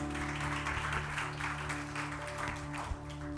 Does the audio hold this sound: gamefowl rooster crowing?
no